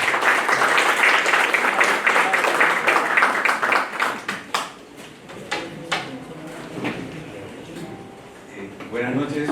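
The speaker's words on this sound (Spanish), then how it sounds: "Un aplauso para recibirlo." An audience at a lawyers' association hall applauds to welcome a speaker at an electoral-law colloquium: a loud, dense burst of clapping that thins and fades over several seconds, with voices heard over it.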